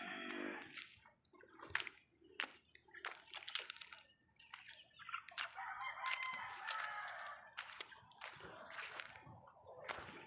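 Chickens cluck and squawk repeatedly nearby amid scattered clattering and splashing noises outdoors, with a rooster-like call standing out.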